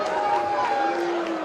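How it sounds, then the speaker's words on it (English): Stadium crowd at an A-League football match between Perth Glory and Brisbane Roar reacting with disapproval toward the referee, a steady broad roar of many voices sustained throughout, with a commentator's voice talking over it. "Crowd not happy with that."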